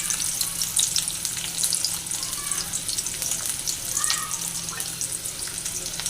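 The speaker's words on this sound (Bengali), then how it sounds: "এগুলোকে আমি একটু অল্প করে ভেজে দিই" Garlic and a large chopped onion frying in a pan for a Chittagong fruit and lentil curry, a soft continuous sizzle with faint clinks and watery crackles, fairly quiet and close, no voices.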